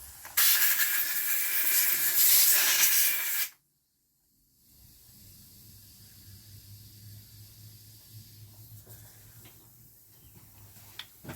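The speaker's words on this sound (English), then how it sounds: "Let's give it a go with the air. Best free cleaner available." Compressed air blasts loudly against a Honda XR 125 brake caliper in one sustained hissing burst lasting about three seconds, then stops abruptly, leaving a quiet low hum from the workshop.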